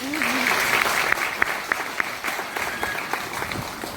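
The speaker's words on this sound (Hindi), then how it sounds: "जोरदार ताली प्रवीण भाई" Audience applause for Praveen at a motivational mindset seminar, a dense burst of clapping from a crowd that continues steadily, loud and close.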